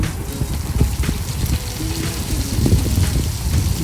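Chana dal, garlic and curry leaves fry in oil in a pan, a continuous moderate sizzle with scattered pops and light crackles, no talking.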